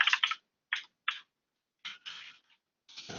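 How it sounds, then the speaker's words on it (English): A loud computer keyboard clacks in short, sparse bursts of keystrokes separated by pauses, close and dry in a quiet room. "So you're stuck with a really loud keyboard."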